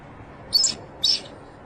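Two short, high chirping calls from Guardian, a bald eagle at the Redding nest, spaced about half a second apart over faint background hiss.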